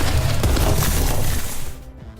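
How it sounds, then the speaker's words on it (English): Loud, clipping rumble of rocks falling and crashing in the RAZED video game, a dense crushing roar that fades abruptly near the end. "I don't want you to hear those falling rocks again"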